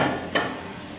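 A lid is set down over a pan of rice-flour dosa (chawal aate roti), giving one short clatter of metal against the pan amid faint kitchen noise.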